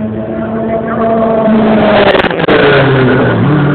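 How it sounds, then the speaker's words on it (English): Rothmans Porsche 956 race car engine revving, a loud close engine drone with a shifting pitch, briefly broken by sharp clicks, while people talk over it. "There's the Rothman, Porsche 956."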